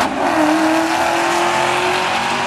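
A Camaro ZL1 and a Mercedes C43 AMG launch off the line at a drag strip, loud engines roaring hard with a rising tone and a hint of tire noise, continuous and close.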